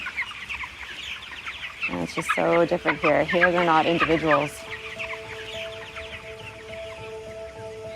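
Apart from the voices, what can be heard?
chickens clucking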